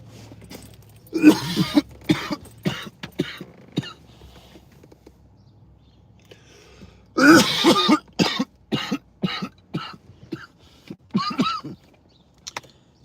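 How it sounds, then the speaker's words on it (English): A man coughs hard in two bursts of rough, hacking, throat-clearing coughs, each a cluster of several quick spasms, close to the microphone, with near silence between the bursts. "As soon as I turn around, I start coughing."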